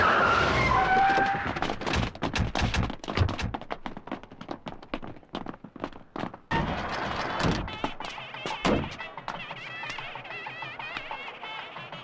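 A car drives fast and skids on a rough road in a film scene, with sharp screeching bursts and thumps across the first half, then a steadier engine and tyre noise. No one speaks.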